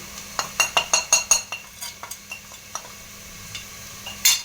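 Spiced chicken biryani mixture with chili, turmeric, coriander powder and salt stirred in a metal pot, a quick run of close scraping clinks and spoon knocks that slow and fade into scattered softer taps, with a final bright clatter.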